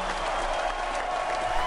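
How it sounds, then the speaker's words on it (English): A crowd cheers and claps in Five Nights At Grek's Hotel, a dense continuous wash of applause that holds steady and loud throughout the short stretch. "And the crowd goes wild."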